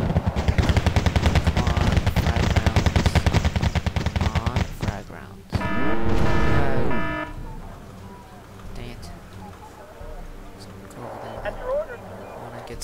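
Rapid automatic cannon or machine-gun fire from an Avenger air defense vehicle in the Wargame: Airland Battle video game comes as a long dense burst, then a loud sweeping whine and scattered distant explosions and game effects.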